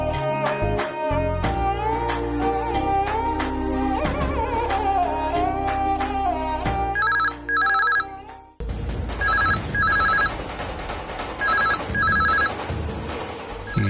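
A telephone rings in repeated short electronic bursts over loud dramatic background music in a family home, the rings clear and fairly close.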